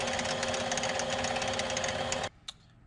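A mini lathe cuts metal stock for a clevis with a steady, buzzing machine drone that stops abruptly near the end, followed by a single small clunk.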